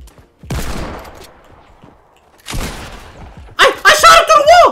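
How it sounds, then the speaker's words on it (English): Two loud, close bursts of gunfire from Fortnite with a pause between them, followed by an excited shouting voice. "I shot him through the wall!"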